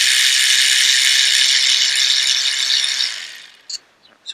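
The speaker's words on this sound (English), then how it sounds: "So the first thing you want to do is take the bolts out." A ratchet spins with a fast, steady clicking rattle as it undoes coil pack bolts on a Rover 25's 1.4 K-series engine, loud and close for about three seconds, then a few short separate clicks.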